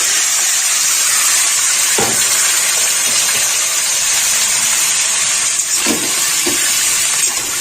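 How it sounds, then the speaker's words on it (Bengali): Sliced sweet pumpkin drops into hot fried tempering in a pan, setting off a steady, loud sizzling hiss that runs throughout, with a few soft clunks of utensils and no talk. "ফোড়ন ভাজা হয়ে গেছে, এবার আমি এর মধ্যে দিয়ে দেবো এই ঝিরি করে কেটে রাখা মিষ্টি কুমড়োগুলো"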